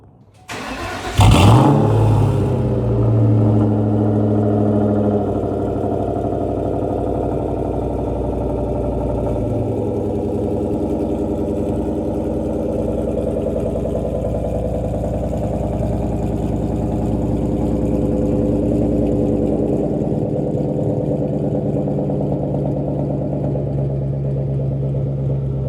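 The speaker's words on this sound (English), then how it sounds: "All right, so we're gonna do a cold start on this thing." A Ford Mustang Mach 1 with an SLP Loudmouth exhaust cold-starts with a sharp crank and loud flare, then settles into a steady, deep, rumbling high idle that carries on alone for the rest of the clip.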